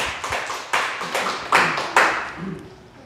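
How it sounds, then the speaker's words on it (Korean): Churchgoers at a Korean church service clap in a few loud, distinct bursts with ringing room echo, each strike decaying before the next. "박수!"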